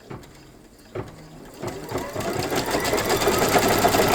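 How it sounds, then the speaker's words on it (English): Embroidery machine running a placement-line stitch for batting on a quilt topper appliqué, loaded with 40-weight polyester thread and a 75/11 needle; steady, close mechanical whirring and rapid needle clatter that starts after a few clicks and builds to a continuous drone, no talking. "It tells me it's going to go ahead and stitch the placement line for my batting."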